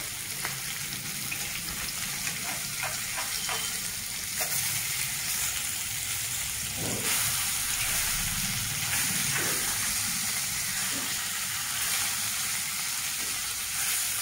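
Fish pieces frying in oil in an earthen pot for a raw mango curry, a steady close sizzle with the soft scrape and clatter of turning the pieces.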